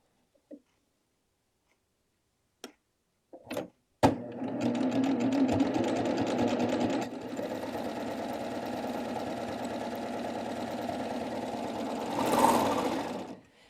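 A sewing machine stitches a flat lock seam, running steadily and close for about eight seconds after a few faint clicks and a sharp knock, with its motor whirring loudly and evenly to the end.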